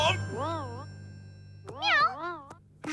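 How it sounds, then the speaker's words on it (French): A cartoon kitten in a Barbie animation gives several high, sing-song meows, one drawn-out call followed after a pause by a louder pair of meows, close and clear. "C'est Précieuse, le petit chat."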